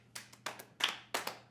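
A small audience claps in a few short bursts, with four or five separate rounds of brisk hand claps and brief quiet gaps between them.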